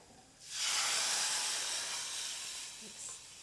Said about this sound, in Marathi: वरण किंवा आमटीला फोडणी देतो त्यावेळी असा चरचरीत आवाज आला पाहिजे